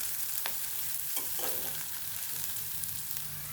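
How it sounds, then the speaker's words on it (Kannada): Onion and chopped green chili fry in hot oil for a dill-leaf stir-fry, giving a soft, even sizzle broken by a couple of brief stirring scrapes, with no one speaking. "ಇದಕ್ಕೆ ಈರುಳ್ಳಿ ಹಾಕ್ಕೊತೀನಿ ಮತ್ತು ನಾನು ಹಸಿಮೆಣಸು ಕಟ್ ಮಾಡಿದ್ದು ಹಾಕ್ಕೊತೀನಿ"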